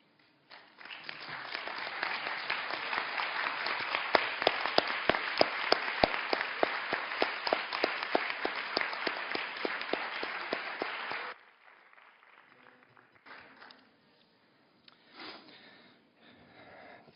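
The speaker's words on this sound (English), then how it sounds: "I would like them all to stand up so we could give them a round of applause" An audience gives sustained, loud applause for members of the International Youth Coalition, many hands clapping evenly for about eleven seconds before cutting off into a quiet room with faint rustling.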